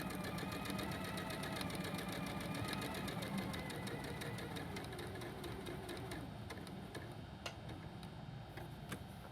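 A sewing machine stitches down the right side of a fabric piece, a continuous close mechanical whirring with rapid rhythmic ticking that holds steady throughout.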